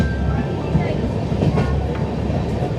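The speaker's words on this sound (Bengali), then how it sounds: "কটক স্টেশনে আমাদের ট্রেন ঢুকছে" A train rolls into Cuttack station, its steady low rumble and wheel clatter filling the scene up close, with a faint voice or two beneath the noise.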